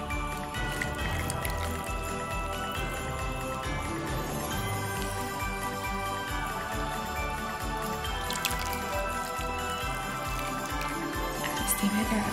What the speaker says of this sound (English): I'm going to pour the very hot milk right over it